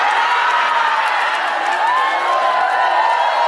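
Audience at an Indonesian religious talk claps, cheers and whoops together in a dense, continuous wash of crowd noise, with no single claps standing out.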